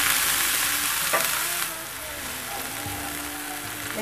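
Garlic and onion sautéing in a tablespoon of oil, a close and steady sizzle with a brief stirring clatter, no talk, easing slightly partway through.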